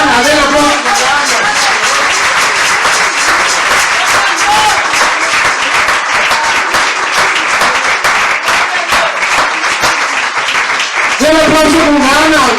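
Church congregation applauding energetically during a Sunday service, a loud, dense, sustained wash of clapping with voices and a brief sung or spoken tone near the end.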